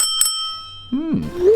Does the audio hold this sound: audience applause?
no